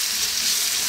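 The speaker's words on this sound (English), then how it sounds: "let's throw these around in the pan," Small potato pieces fry over lively heat in a pan, a brief steady close hiss of oil with no other sounds.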